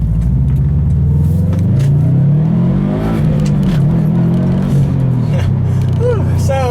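A 2012 Subaru WRX STI Limited driving on a back road, its engine droning loud and close from inside the cabin, pitch rising and falling with acceleration and gear changes, with some road rumble beneath.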